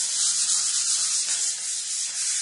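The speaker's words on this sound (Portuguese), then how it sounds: "Passei uma lixa 320, mas coisa simples," Fine 320-grit sandpaper rubbed lightly over a surface, giving a steady close hiss of scratchy friction with gentle back-and-forth swells and no pauses.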